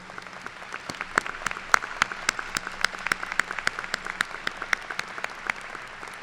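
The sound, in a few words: commencement audience applause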